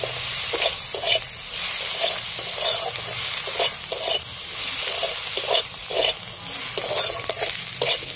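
A spice mixture with turmeric and salt fries in hot oil while being stirred, with repeated scraping strokes in a regular rhythm over a constant bright sizzle, close and fairly loud.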